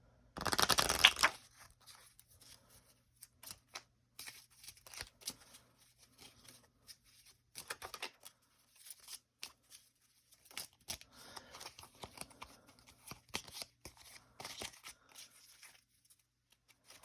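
A deck of game cards is shuffled close up, opening with a dense riffle burst and followed by scattered dry flicks, slides and papery rustles at varying intervals, quiet and without talking.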